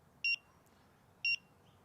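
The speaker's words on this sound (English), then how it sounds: "We're getting beeps on the last 10 seconds to remind us that totality is about to begin." An eclipse clock beeping its countdown in the final seconds before totality, two short high electronic beeps about a second apart, clear against quiet background hum.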